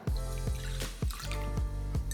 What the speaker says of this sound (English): The first step is to add water